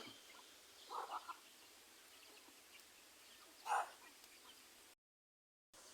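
Two short, faint clucking calls, one early and one midway, from chickens and a limping rooster at feeding time, with quiet outdoor background between them.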